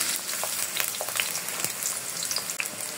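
Onions frying in a pan as the base for a winter baby spinach bhaji, a steady close sizzle with scattered crackles and pops, no voices.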